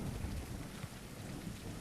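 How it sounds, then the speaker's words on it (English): Thunderstorm in a survival video game: steady rain hissing throughout with low rumbling thunder rolling underneath, continuous and fairly loud with no speech. "Didn't we just have a storm?"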